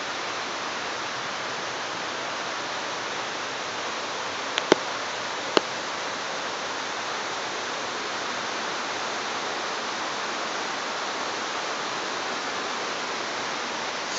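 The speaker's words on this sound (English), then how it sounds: "Sound of running water." A nature stream's running water gives a constant, full rushing hiss with no change throughout, broken only by a couple of sharp faint clicks partway in.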